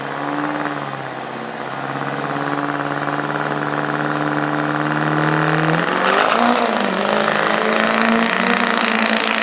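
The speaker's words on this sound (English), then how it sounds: "That's Garrett his Duramax." A Duramax diesel truck at a drag strip revs its engine in a steady climbing roar, then surges louder and rougher as it launches and pulls away, heard close.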